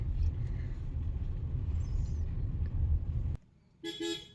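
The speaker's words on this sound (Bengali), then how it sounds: "আমার বাড়ির রাস্তায় গাড়ি ঢুকছে" A Maruti Suzuki Brezza ZXI pulling into a home street in the rain: a steady low engine and road rumble, then a sudden cut and a short pair of bright horn toots near the end, close by.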